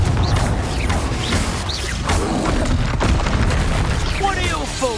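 Fiery Confringo blast spell explosions from the Hogwarts Legacy video game, several booming bursts and crackling impacts over continuous game music and effects, loud and close with a spoken voice mixed in.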